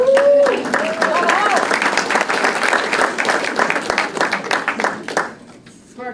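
Loud audience applause fills the room for about five seconds, with a voice and a brief whoop over the start before the clapping thins out.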